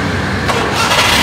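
A used, low-budget car engine cranks and catches, loud and close, in a short burst of starter whir that rises into running engine noise.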